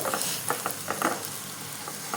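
A cheese masala snack frying in a little oil in a pan, giving a soft, steady sizzle with light intermittent stirring crackles close by.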